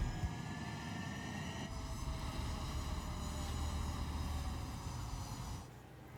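A fighter jet engine roars steadily at takeoff in Ace Combat 7 on Nintendo Switch, a loud sustained rumble with a high whine that drops off near the end.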